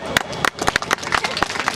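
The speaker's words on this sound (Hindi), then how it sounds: "जोरदार तालियां।" Audience clapping at a general knowledge quiz event in Sousar Range, South Chhindwara, a short run of uneven, close handclaps from a small group, brisk and irregular.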